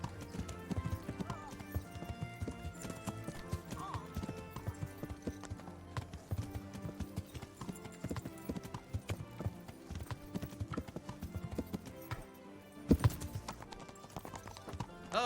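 Rhythmic clip-clop of horse hooves with an occasional whinny, set against a busy musical soundtrack from the video game Kingdom Come: Deliverance, fairly quiet overall.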